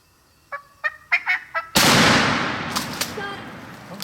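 Wild turkey gobbles during a hunt, five sharp calls in quick succession, clear and fairly near, abruptly cut off by a loud shotgun blast whose roar trails away.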